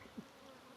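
Bees buzz softly around a newly split beehive outdoors, a faint steady insect hum with one brief closer pass and a sharper buzz at the very end.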